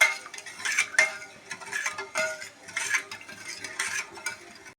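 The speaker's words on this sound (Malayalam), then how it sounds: "നന്നായിട്ട് മിക്സ് ആക്കിയിട്ട് നമുക്കത് കുറുകി കിട്ടണം. നന്നായിട്ട് ഇളക്കി കൊടുക്കാം." A spoon stirring milk and custard powder pudding in a pot as it thickens, repeated scraping and clinking strokes in an uneven rhythm, close and fairly quiet, with no voices.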